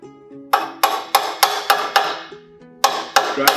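A small hammer drives a 3/8 roll pin into a housing clamped in a vise, giving nine sharp metallic strikes in a steady rhythm with a short pause before the last three, close and loud.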